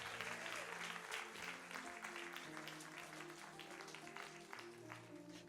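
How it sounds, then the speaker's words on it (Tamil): A church congregation at a Tamil sermon claps together in a sustained burst of applause that continues steadily throughout, with no talking. "ஒரு கைதட்டு கொடுத்து, சத்தம் எனக்கு போதாது"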